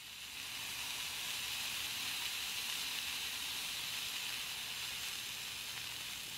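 Smash burger patty searing on a scorching-hot griddle atop a Watchman stove, a steady, even hiss of frying fat holding at a constant level throughout without pauses.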